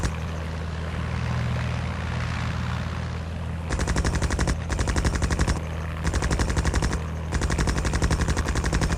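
Rapid machine-gun bursts from a WWI-style fighter plane in the Rise of Glory mobile game rattle over a steady propeller drone, coming in several evenly spaced bursts after a stretch of engine noise alone.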